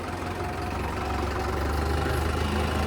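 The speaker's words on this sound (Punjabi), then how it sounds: "ਹੁਣ ਆਪਣਾ ਤਾਂ ਚੱਲਦਾ ਜਨਰੇਟਰ ਜਨਰੇਟਰ ਨਾਲ ਹੀ ਨਿਬੜਨਾ ਕੰਮ" A generator engine runs steadily on a farm with wet, rain-soaked fields, a continuous loud low hum and drone with no breaks, close by and alone without talk.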